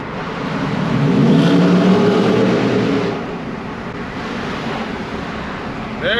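Jeep TJ with a 5.0 engine under way, a loud sustained engine drone rising in pitch as it revs, then easing to a steadier roar with road and wind noise, heard from inside the vehicle.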